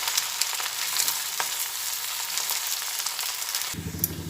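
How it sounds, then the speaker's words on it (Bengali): Fried rice with ground black pepper mixed in, stirred in a pan: a steady, close sizzle with scraping strokes throughout, ending in a brief duller clatter. "এবারে নাড়াচাড়া করে নেব গুঁড়োটা একসঙ্গে মিশিয়ে নিচ্ছি"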